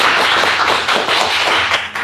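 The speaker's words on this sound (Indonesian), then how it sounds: "Tepuk lagi biar pada bangun nih." A studio audience claps on a live Indonesian pre-dawn Ramadan variety show, loud, close and dense rapid applause filling the whole two seconds without talk.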